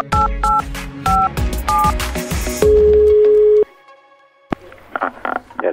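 A telephone call is placed with a quick series of keypad dialing tones, followed by a steady ringing tone, then a click and some handling noise as the line connects. Loud and close.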